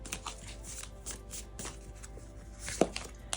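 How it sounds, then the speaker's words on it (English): Tarot cards being shuffled by hand close up, a quick series of soft riffling slaps and flicks with one sharper snap near the end. "so let's keep shuffling"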